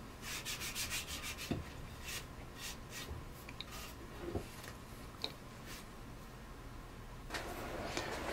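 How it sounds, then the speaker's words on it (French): Soft scraping and rubbing of small splinters being removed from a beech wood vase stand, in irregular strokes with a few sharp ticks, fairly close and quiet. "Je vais retirer un petit peu les petits morceaux de bois, les petites échardes"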